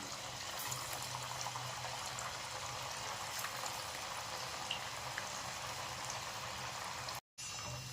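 Chana dal vadas deep fry in oil over medium heat, a continuous bubbling hiss at low volume that runs steadily to a brief break near the end, with no talking.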